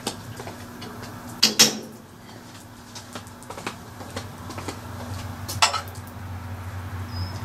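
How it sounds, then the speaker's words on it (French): A metal spoon clinks against a bowl while pissaladière with anchovies and onions is prepared, two bright, separate clinks over a soft kitchen hum, with faint light taps between them. "Je vais prendre ma cuillère."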